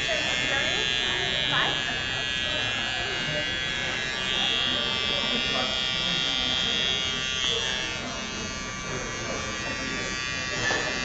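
An electric razor buzzes steadily and close up as it shaves a man's head at a charity head-shaving event, a continuous drone with people chatting over it.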